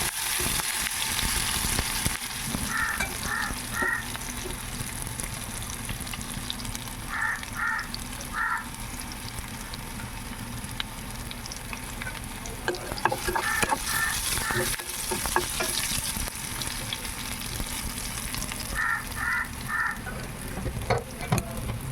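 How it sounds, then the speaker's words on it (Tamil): Curry leaves and crushed garlic sauté in a hot pan with a steady, even sizzle and occasional stirring, while crows caw in short bursts in the background. "இதுக்கப்புறம் எடுத்து வச்ச கருவேப்பிலை தட்டி வச்ச பூண்டு எடுத்து சேர்த்து நல்லா வதக்கணும்"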